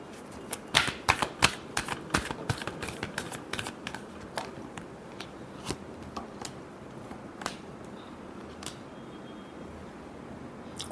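Tarot cards are shuffled close up, a burst of crisp riffling snaps at first, then thinning to scattered flicks and taps over quiet background.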